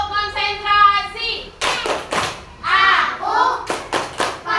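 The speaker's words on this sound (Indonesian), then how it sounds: "Tepuk konsentrasi." Children in a classroom play a rhythmic concentration clapping game, a few sharp group claps and thumps separated by chanted voices.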